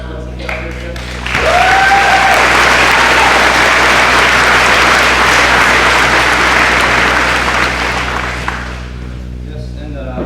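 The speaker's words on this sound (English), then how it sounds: "let's give everyone behind us a round of applause for us to get up here" Audience applause at a high school graduation ceremony, a dense, loud burst of clapping from a large crowd that swells quickly and holds steady for several seconds before tapering off.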